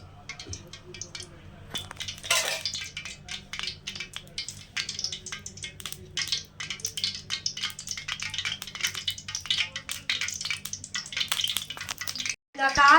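Hot oil sizzling and crackling in a deep frying pan, a busy continuous fizz with occasional metallic clinks of a utensil, heard up close.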